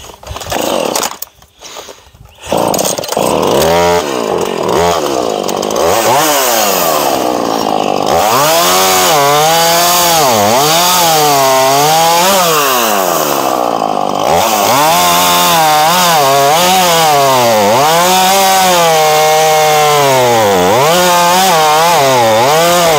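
A chainsaw cuts junk wood after a brief start: a loud, close engine whine then runs continuously, its pitch rising and falling in waves as the chain bites into the wood.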